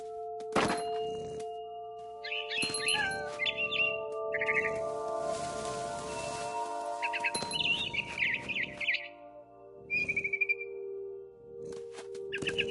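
Short bursts of bright video-game bird chirps, from a frightened bird, repeat in clusters over steady electronic tones and background music, with no talking.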